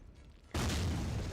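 Artillery shell exploding near buildings in the Close Combat 3 wargame, a sudden loud boom that breaks a quiet background and rolls on as a dense rumbling blast.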